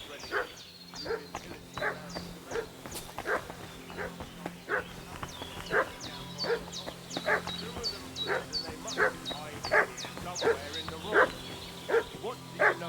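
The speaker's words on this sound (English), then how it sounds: "What's that dog making such a fuss about?" A dog in Kingdom Come Deliverance II barks in repeated sharp yaps at a steady rhythm, moderately loud, above a low rumbling ambient bed.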